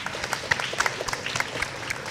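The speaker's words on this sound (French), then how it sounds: "Et on applaudit Sylvain." A television studio audience on the set of a French blind-dating show applauds, the clapping fairly faint and brief, with scattered sharper claps in a short burst.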